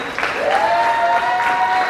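Applause from a graduation audience honoring the virtual school's Class of 2021 graduates, a steady wash of clapping across the whole stretch with a sustained tone running over it.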